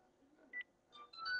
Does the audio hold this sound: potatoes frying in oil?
no